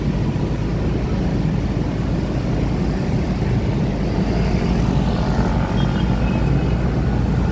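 Steady low rumble of a helicopter flying over a boulevard in Makassar at night, continuous and fairly loud, with broadband engine and rotor noise and no voices.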